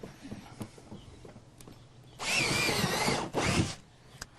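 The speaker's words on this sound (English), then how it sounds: "take a 3/8 inch drill and punch through the outer container as well as the aeration bench" A 3/8 inch drill punching through a plastic outer container and aeration bench, one loud whirring burst of about a second with a brief dip near the end, close by and set against light handling knocks.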